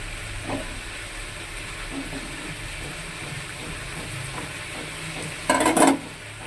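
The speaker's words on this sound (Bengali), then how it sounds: "এবারে ফোড়ন দেবো।" Whole spices crackle and sizzle in hot oil as a tempering for boiled dal, a steady low frying hiss with a few faint stirring clinks and a brief louder burst of sizzling near the end.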